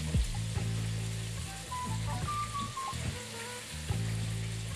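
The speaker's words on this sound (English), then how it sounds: "So now that we're about 5 to 6 minutes in on frying the chicken" Soft, steady sizzling and crackling of chicken frying in hot oil, with faint occasional pops and bubbling throughout.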